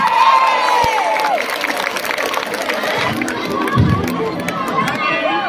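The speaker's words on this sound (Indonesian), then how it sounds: "Yang tepuk tangan paling keras, rezekinya berlimpah." At a concert a large crowd cheers, shouts and claps loudly and continuously, with chatter and excited voices mixed throughout.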